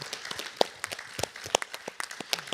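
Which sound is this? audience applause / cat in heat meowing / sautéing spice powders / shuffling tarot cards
audience applause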